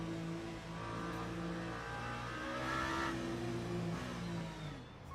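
An engine revs in neutral in the Continental Circus racing video game at the Interlagos circuit, its pitch climbing and dipping in a droning whine with no speech over it.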